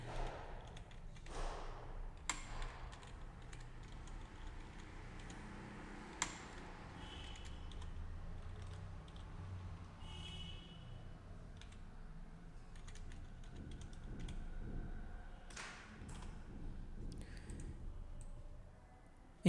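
Names being typed on a computer keyboard, heard as quiet, scattered key clicks and taps over a low room hum, with no voices.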